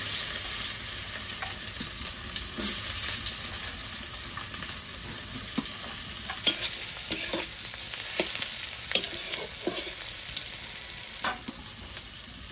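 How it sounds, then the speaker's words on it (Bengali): Chopped onions fry and sizzle steadily in a pan while being stirred, with a continuous close hiss and scattered scraping clicks throughout, no talking. "এবার আমি এগুলো ভালো করে ভেজে নিব, লাল লাল করে।"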